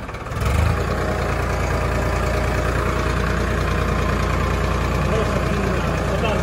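A Farmtrac 60 tractor's 55 hp three-cylinder diesel engine idles with a steady, loud, low rumble and even throbbing pulse, close by and continuous throughout.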